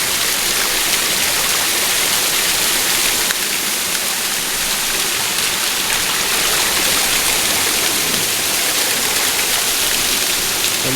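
A waterfall pours down in a steady, loud, close roar of rushing water that runs unbroken throughout, with no voices.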